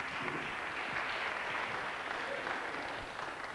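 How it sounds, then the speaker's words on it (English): A concert audience in Roslea applauds Tom Bagan with a steady wash of clapping from a crowd, moderately distant and even throughout, easing slightly at the end. "Give him another big round of applause."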